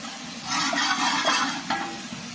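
Dalda ghee dropped into hot onion stock for beef korma, a bright surging sizzle and bubbling that swells after a quiet start and carries on steadily with a few louder pops.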